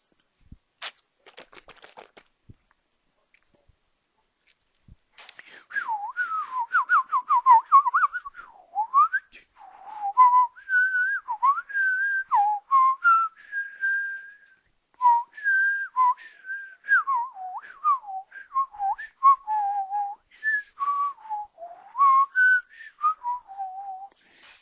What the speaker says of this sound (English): I think I'm going to whistle anyway after I get a drink.